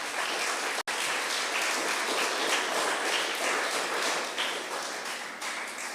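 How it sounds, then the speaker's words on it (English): Sustained applause from an audience at an opening ceremony for Special Education Week, steady dense clapping filling the room for several seconds without talk. "Can we give them a round of applause,"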